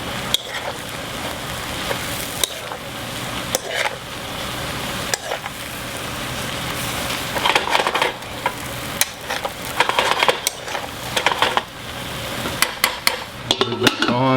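Squash being stirred into stir-fry noodles in a hot pan: a constant sizzle broken by scraping and clinking of a utensil against the pan, busier near the end.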